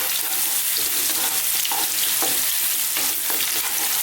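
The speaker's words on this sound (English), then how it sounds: "what I need to do here is just infuse that oil and get that kind of, just a little bit of colour on the garlic" Garlic and ginger frying in hot oil in a stir-fry pan for Chinese vegetables, a loud continuous close sizzle with occasional scraping stirs and crackles, no voices.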